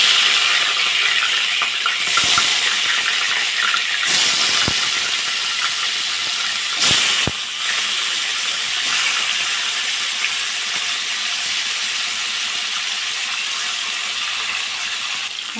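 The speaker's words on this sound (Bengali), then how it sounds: "তেলটা গরম হয়ে গেছে, আমি এবার মাছগুলো ভেজে নেব।" Fish fry in hot oil in a wok, a dense, steady hiss and crackle of sizzling throughout, with a few sharp clinks or scrapes of a utensil against the pan partway through; no talking.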